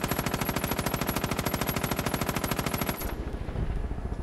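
Rapid automatic gunfire from the video game Far Cry 5 rattles out in a fast, even burst for about three seconds, then stops and leaves a short low rumble behind.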